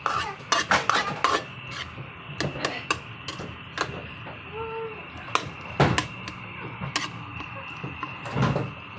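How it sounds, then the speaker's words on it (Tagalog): Ground meat is stirred in a pan for spaghetti sauce, with repeated sharp scrapes and clacks of a utensil against the pan over a low sizzle, coming in irregular bursts. "Haluin natin ulit."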